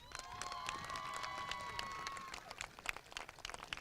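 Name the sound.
audience applause for Bridgeton High School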